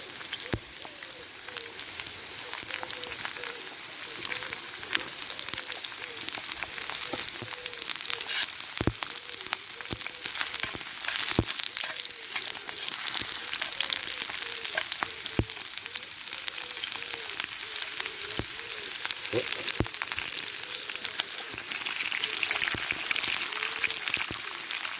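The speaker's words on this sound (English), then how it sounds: "Right, we'll fry them off first. Right, stick the onions in next." Onions frying in a pan over a wild camp fire in Scottish woodland, giving a steady close crackling sizzle with scattered sharp pops throughout.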